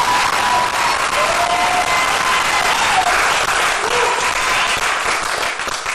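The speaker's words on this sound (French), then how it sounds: "Applaudissez très fort pour Yekima qui va faire son entrée." A comedy show audience applauds loudly for a comedian's entrance, with sustained, even clapping and a light crowd murmur throughout.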